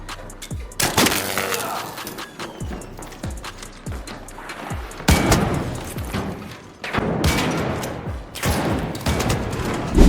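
Shotgun fire in the online shooter ARC Raiders comes as sharp, heavy blasts with booming tails. Several single shots are spread across the first half, then denser bursts and crashing impacts follow loudly, with no voices.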